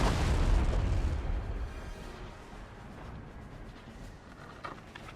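Deep booming cannon fire rumbles through a Napoleon: Total War battle, a heavy blast at the start giving way to a sustained low roar of distant artillery.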